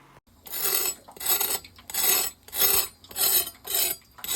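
A knife scrapes the crunchy, cooked skin of a lechon pork belly in six rhythmic rasping strokes, each about half a second long, loud and close with short pauses between them.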